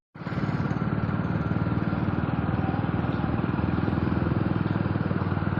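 A motorcycle ridden at speed, its engine a loud, steady, close drone that holds unbroken from start to finish with no voices.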